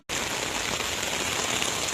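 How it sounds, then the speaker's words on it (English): Steady, dense rain pours down outdoors in Weslaco during a storm, a loud, continuous hiss and patter that starts abruptly and holds constant with no voices. "It's still raining in Weslaco."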